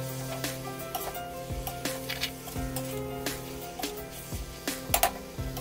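Pieces of mutton fry in oil for Pallipalayam mutton fry, sizzling steadily while a utensil repeatedly scrapes and clatters against the pan.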